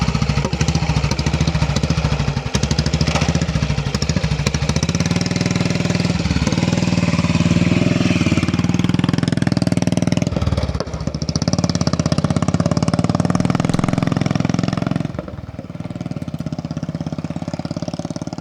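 A British single-cylinder motorcycle engine runs steadily and loudly close by, its rapid low thump continuous for most of the stretch before dipping briefly near the end and carrying on.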